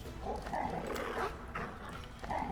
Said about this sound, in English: Come over here with the dogs.